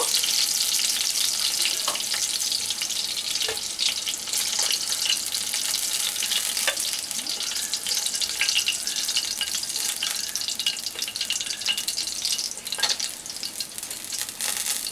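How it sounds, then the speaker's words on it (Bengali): Pieces of bata fish fry in a pan with a loud, continuous hiss of oil, broken by scattered pops and light clicks of a utensil throughout. "বাদ বাকি মাছগুলো আমি ভেজে নেব।"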